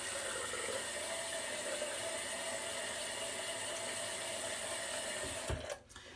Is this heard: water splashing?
yes